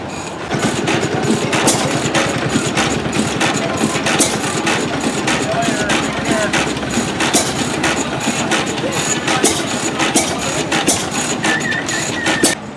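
An old Gar tractor runs steadily on a farm museum grounds, its engine putting out a loud, continuous low chugging rumble with rapid regular firing pulses for the whole stretch.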